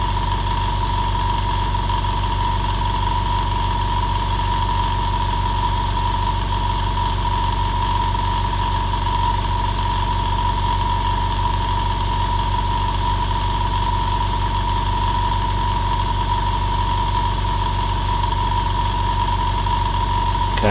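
Iwata IS975 airbrush compressor running steadily to refill its tank, a constant motor drone with a sharp tonal whine, continuous and loud throughout with no talking.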